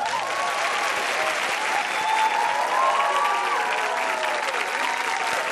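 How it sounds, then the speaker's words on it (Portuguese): A television studio audience applauds loudly and continuously, a dense wash of clapping and crowd noise with faint tonal music or whistles drifting through. "Pode aplaudir eles, pronto, primeiro."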